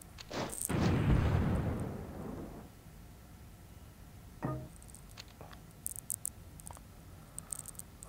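Bombing explosions in the World War I strategy game European War 6 1914: one big rumbling blast that swells and fades over about two seconds, then a shorter thud and scattered faint clicks.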